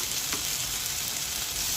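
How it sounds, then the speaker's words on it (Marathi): Small dosas made from leftover rice sizzle on an oiled nonstick pan, a soft, even, continuous close-up hiss with no talking. "एक एक चमचा भरून असे छोटे छोटे आपल्याला डोसे टाकायचे आहेत तव्यावर"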